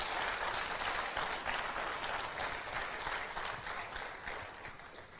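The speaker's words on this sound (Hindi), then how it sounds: "एक बार जोरदार तालियां होनी चाहिए ब्रिट वर्ल्ड वाइड के लिए" Applause for Brit Worldwide at a meeting, a broad, steady round of many hands clapping that carries on evenly and then eases slightly near the end.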